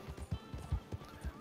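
A horse in the video game Red Dead Online trots with rhythmic, hollow hoof clip-clops and a faint whinny, heard fairly quietly and close.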